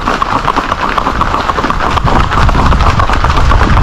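Horse hooves clip-clop during a ride in Guavate, a fast continuous patter of many overlapping hoof beats, loud and close, under a heavy wash of wind and outdoor noise.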